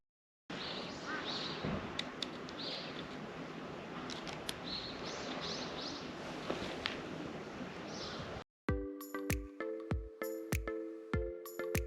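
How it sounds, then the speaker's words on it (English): Birds chirp in a quiet Kyoto neighbourhood, small bright calls repeating over a soft outdoor hiss, then the ambience cuts to a series of sharp tonal bursts. "you might get a minute or two with just the sound of the birds chirping and your camera clicking"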